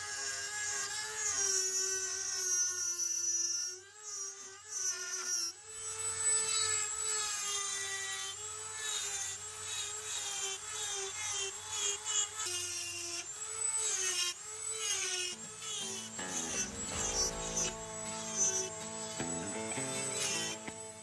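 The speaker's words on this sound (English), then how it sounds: "what I'm gonna do with the Dremel here is I'm gonna go ahead and cut right through along that groove" Dremel rotary tool cutting along a groove in a wooden pipe stem, a steady high-pitched whine that rises and falls in pitch as the bit bites into the wood, continuous and close throughout.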